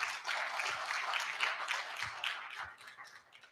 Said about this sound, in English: I want you to give all of them a big round of applause.